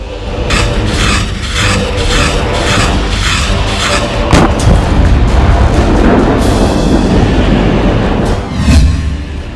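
Repeated deep booms and rumbling blasts from an air strike in a war zone, loud and dense with overlapping thuds and a sustained roar throughout, with no speech.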